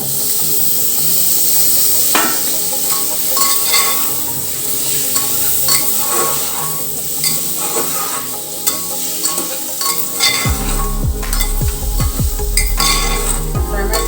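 Tomatoes sautéing with ginger-garlic paste for pav bhaji, a steady loud sizzle and fry with a spoon scraping and clinking against the pan throughout, continuing alone without talk.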